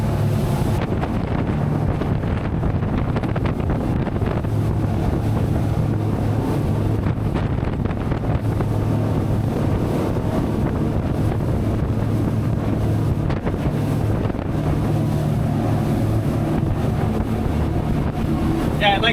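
A Sea Pro 265FLX boat runs at speed around 42–43 mph, its steady engine drone and hull rumble continuous throughout, with constant wind buffeting the microphone and water rushing past.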